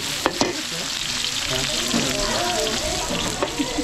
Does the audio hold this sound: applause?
no